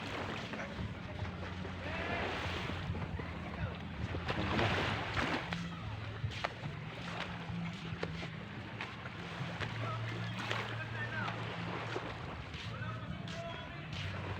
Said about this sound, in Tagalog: Ito mga bangka.